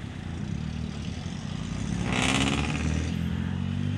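A Yamaha XSR900 motorcycle being ridden, giving a steady low engine drone with rising wind rush partway through, close and continuous.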